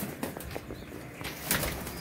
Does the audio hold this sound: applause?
no